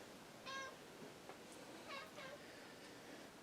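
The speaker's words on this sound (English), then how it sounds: "Oh, and the cat wants to say hello." A house cat meows faintly two or three times, short and thin, over a quiet hiss of room noise.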